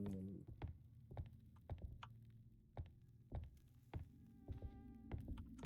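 A housefly buzzes in the video game Ghost Janitors, a faint, thin whine that drifts on and off, with soft repeated thumps and taps spaced through it.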